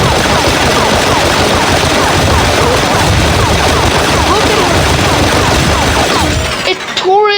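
A continuous, loud barrage of rapid armor-piercing gunfire hammers a robot in the Melon Sandbox game, with dense crackling impacts and shattering that only break off in the final moment.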